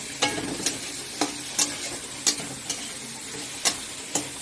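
Par-boiled potatoes frying in a pan with fish curry for a simul fish jhol, a steady sizzle broken by sharp, regular scrapes and knocks of a spatula stirring roughly every half second.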